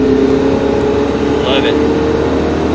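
A car engine pulls under throttle on a racetrack, a loud, steady drone that holds level throughout while a voice talks over it.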